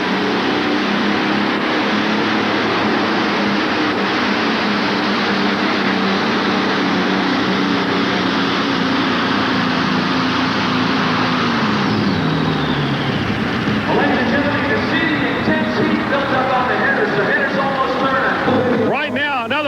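Cook Sheet Metal pulling tractor driven by Allison aircraft engines, a loud, steady multi-engine roar that builds and shifts in pitch as it runs indoors at the 1988 National Farm Machinery Show, with an announcer talking over it.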